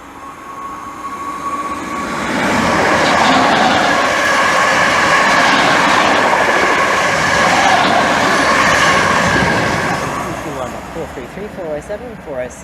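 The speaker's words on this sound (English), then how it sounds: "passing through now is our final train of the day from Southend Victoria to London Liverpool Street" A passenger train bound from Southend Victoria to London Liverpool Street passes through Romford station, building from a distant rumble to a loud, sustained roar with rattling wheels, then receding, with a person talking faintly.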